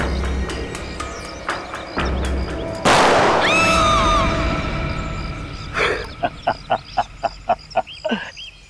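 Explosion blowing something up in a CID crime drama scene, a loud broad blast near the middle that trails off, followed by a run of sharp regular popping bangs.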